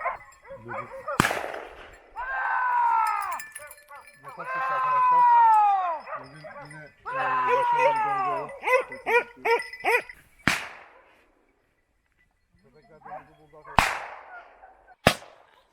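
Hunting dogs bay at a wild boar, with loud drawn-out howling yelps and bursts of barking, a few sharp cracks, then a quiet stretch with distant yips and more sharp snaps.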